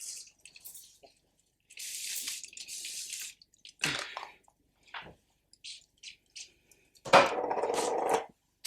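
Avène thermal spring water facial mist sprayed in short hissing bursts, several separated puffs with quiet gaps between, close and fairly soft, the last spray longer and louder.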